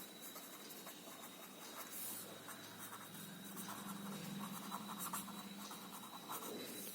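A pen drawing a diagonal across a pentagon on paper, a faint, quiet scratching stroke that thickens in the second half over low background hiss, close up, with no talking.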